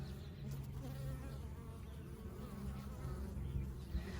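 Steady buzzing of bees around blooming willows fills the air at a low level, a continuous drone with no talking.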